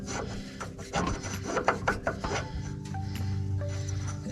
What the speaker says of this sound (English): now we're going to put the pulley back on